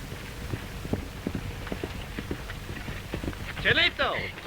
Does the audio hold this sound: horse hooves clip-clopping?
yes